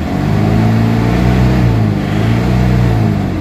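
Isuzu Crosswind engine with vibration and low power revving steadily, a rough low droning hum with slight rises and falls in pitch, close and continuous with no talk.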